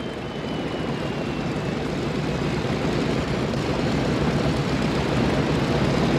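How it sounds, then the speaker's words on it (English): A 757 airliner rolls in at an airport, its engines giving a steady, broad roar that holds and slowly builds over the whole stretch, with no talk over it. "No, that's not your plane. Yours is this one rolling in."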